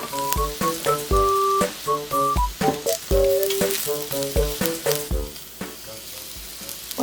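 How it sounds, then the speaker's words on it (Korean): Mushrooms sauté in olive oil in a pan with a steady crackling sizzle and rhythmic stirring scrapes, set against light background music. "팬에 올리브유를 넣고 버섯을 볶아주세요."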